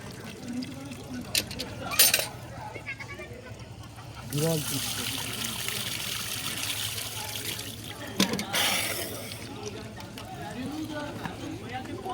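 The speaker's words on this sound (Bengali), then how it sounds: "স্নান করছে কলের জলে" Tap water splashing and trickling outdoors at a village tap while a man bathes, a soft steady flow with a few louder gushes, under people talking nearby.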